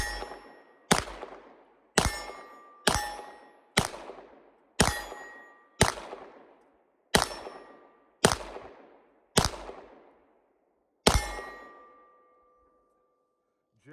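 An FN Browning Hi-Power 9mm pistol fires ten sharp, evenly spaced shots over about eleven seconds, each crack ringing out with a short metallic decay, followed by silence.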